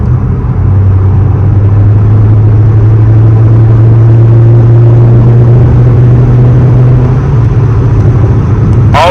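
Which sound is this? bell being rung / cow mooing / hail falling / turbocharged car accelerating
turbocharged car accelerating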